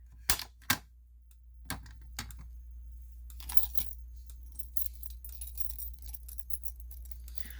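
Fire alarm pull station being reset, a few sharp metallic clicks and clacks near the start followed by quieter rattling handling noises in a hushed room.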